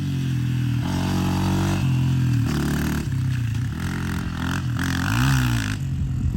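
Stock Honda trail dirt bike ridden off-road, its single engine droning loud and steady with rising and falling revs and a sharp throttle blip near the end, with faint clatter and scraping underneath.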